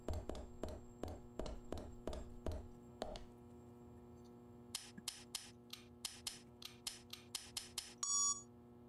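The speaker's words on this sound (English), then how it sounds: "That was a different beep, I think." Keypad beeps from the video game Deadly Premonition: a run of regular scraping taps, a pause, then a quicker string of short high clicks ending in a brief tonal beep, faint and with no talking.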